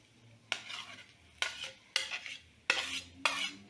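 Potato is added to a pan for aloo mutter pattice filling and stirred, giving five sharp scraping strokes of a spoon against the pan, evenly spaced and fairly close, with faint sizzling between them.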